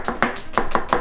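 A kitchen knife mincing onion for an Italian soffritto, five quick, crisp chops on a cutting board in fast, even rhythm, close up with no talking.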